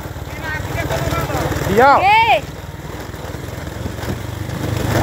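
A motorcycle engine hums steadily, close up, while the bike rides along a rough road toward a bridge, with a person talking briefly over the engine noise.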